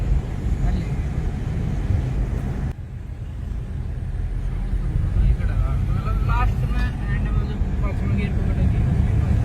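A New Holland 3630 Special 4x4 tractor runs fast along an empty road, its engine a steady loud rumble throughout with a brief dip partway, while someone talks over it.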